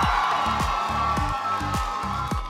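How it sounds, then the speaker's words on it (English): Students at an elementary school campus celebration cheer and shout together as a crowd, with loud, dense whooping over rhythmic music beats, continuous throughout. "Give yourself a clap."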